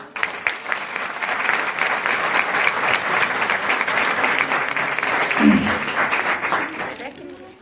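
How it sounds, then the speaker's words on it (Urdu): Loud, sustained applause from a church congregation during worship, dense clapping carrying steadily through the whole stretch before fading at the end. "تالی بجانی تو زوردار"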